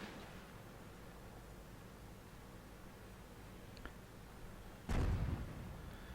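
A single heavy tank cannon shot booms out once near the end, a sudden deep blast that fades slowly over a low hissing background of the World of Tanks battle on the Quiet Coast map, tier-five M7 in play.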